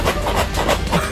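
Milk-flavoured cereal flakes rattle inside a box in a quick run of rhythmic, crunchy shakes, close and fairly loud with no speech.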